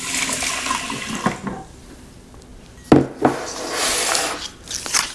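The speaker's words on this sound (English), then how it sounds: "And I'm going to add 2 cups of water." Water pours into a pot of rice in a bursty, splashing flow with a pause in the middle, followed by a sharp clank of cookware and more gushing.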